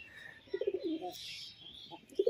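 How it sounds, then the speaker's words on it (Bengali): Pigeons coo in short, close, low throaty phrases while being fed, with a pause between calls and a faint hiss in the background. "আমি এখন পায়রাদের আর একটু খাবার দেব।"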